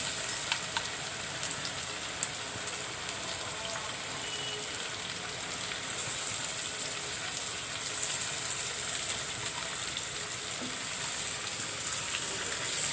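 Hilsa fish with roe sizzle and crackle as they fry in hot oil, a steady bright hiss that holds at moderate level throughout with no talking.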